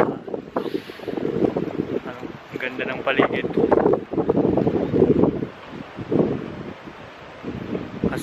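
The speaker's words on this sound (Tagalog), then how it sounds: "Grabe ng hangin. Parang bagyo na." Strong gusting wind roars across the microphone while a person talks over it, the rushing noise rising and falling throughout.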